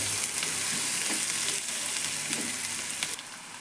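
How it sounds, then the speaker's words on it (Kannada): Peanuts and curry leaves frying in hot oil, giving a close, dense, continuous sizzle with faint crackles that softens slightly toward the end. "ಎಣ್ಣೆ ಒಳಗೆಲ್ಲ ಫ್ರೈ ಮಾಡೋಣ್ರಿ ಇದನ್ನೆಲ್ಲ"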